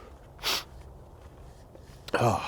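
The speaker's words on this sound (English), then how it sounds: "Sorry for the sniffling again." A person with a cold sniffles twice, a short sharp intake of breath through the nose followed moments later by a second, louder sniff, close and quiet against faint outdoor background noise.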